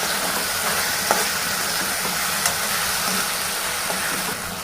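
Salt and turmeric being stirred into a cluster bean and sesame curry in a hot pan: a steady, even sizzle with a few faint scrapes and taps of the spoon.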